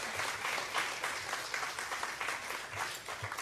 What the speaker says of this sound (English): So let's give these three wonderful young leaders a real round of applause.